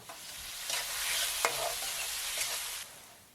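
About 600 g of chopped onions frying in a pan for Bangladeshi beef bhuna, giving a steady close sizzle with a few sharp stirring scrapes and clicks, no voices.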